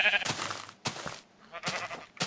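Sheep bleating in the Minecraft video game, three separate bleats in a loud, close sequence with short quiet gaps between them.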